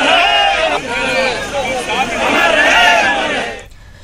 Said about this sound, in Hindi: अटल अस्थि कलश यात्रा में लोगों की भारी भीड़ देखने को मिली